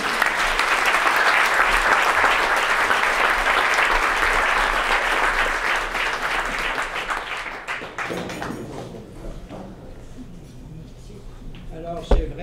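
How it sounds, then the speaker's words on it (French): Applause from an audience at an evening awards celebration for a naturalist society's centenary, a thick wash of clapping that fades over several seconds into room quiet with a faint voice and a final thump. "Alors, bon applaudissement pour eux."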